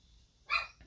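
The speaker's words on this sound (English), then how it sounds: "sorry about the dogs." A dog gives one short, faint bark in the background of a quiet room, with a softer yip right after it.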